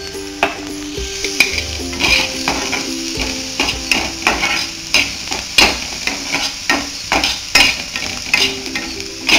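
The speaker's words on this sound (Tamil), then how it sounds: "இந்த வெங்காயம் கொஞ்சம் பொன்னிறமா வர வரைக்கும் நல்லா வதக்கிக்கிறோம்" Onions sauté in a pan for an egg roll stuffing, sizzling steadily while a utensil scrapes and knocks against the pan in a repeated rhythmic pattern.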